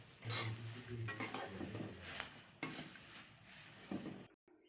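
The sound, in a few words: flattened rice (chira) stirred and fried in ghee in a pan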